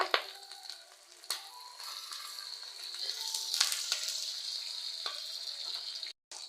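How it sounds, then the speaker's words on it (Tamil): Green chilies, ginger and curry leaves fry in hot oil for a lake fish curry, giving a thin crackling sizzle with scattered pops, moderately loud and steady, briefly cutting out near the end. "பச்சை மிளகா ஒரு ரெண்டு பச்சை மிளகா போட்டிருக்கோம் கருவேப்பிலை"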